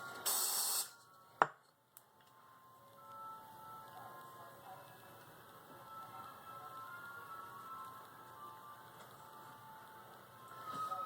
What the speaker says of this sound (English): I know it's not the greatest thing to be spraying it directly in her face